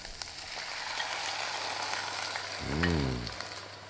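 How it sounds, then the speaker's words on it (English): Vegetables sauté in a pan for caponata, a quiet continuous sizzle with occasional stirring clicks, and a brief low voice-like tone near the end. "Okay, we're going to saute that"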